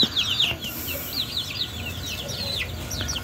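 Chickens and young chicks on a small farm clucking and peeping in quick, overlapping bursts, close by and fairly loud, over a low background rumble.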